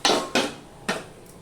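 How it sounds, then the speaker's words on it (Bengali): A metal lid is set onto a kadai of pumpkin shoots and leaves, giving three sharp, close clanks that ring out and fade in a quiet kitchen. "এবার আমি ঢাকা দিয়ে দিলাম"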